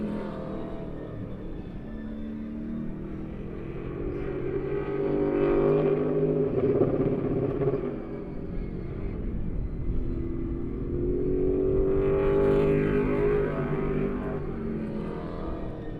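Late model race cars roaring around a track in a heat race, a steady, distant engine drone that swells twice as the pack passes, with no talk.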